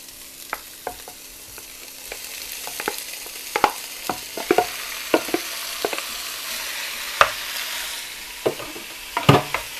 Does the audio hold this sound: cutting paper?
no